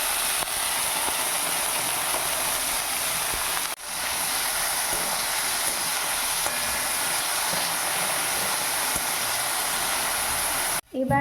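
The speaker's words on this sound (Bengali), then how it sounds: "কড়াই আমি এবার এই সবজিগুলো দিয়ে দিচ্ছি।" Capsicum, onion and potato fry in white oil in a kadai for Maggi, giving a loud, unbroken sizzling hiss that holds steady for several seconds, with one brief dip partway and another near the end.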